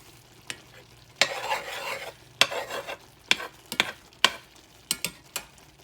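Ground beef cooking in a pan on a home stove, with a low background sizzle and repeated sharp scraping and clinking of a utensil stirring the meat.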